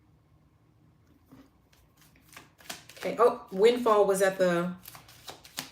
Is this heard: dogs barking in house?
no